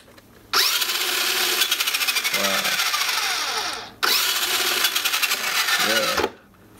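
A Jada Toys RC Bumblebee Transformers toy car races with a loud, high electric motor whine in two long bursts, each rising sharply then cutting off, with a short quiet gap between them.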